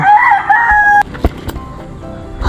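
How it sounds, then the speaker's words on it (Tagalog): Chickens in a backyard: a rooster crows loudly, then short clucks and scattered knocks and movement follow. The birds sound close, and no voice is heard. "Oh my God, tabi, mga manok kayo."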